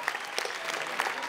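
A crowd across a town square at a Festa Major evening gathering applauds, a dense, continuous patter of many hands clapping at once, fairly steady and unbroken, with no clear speech.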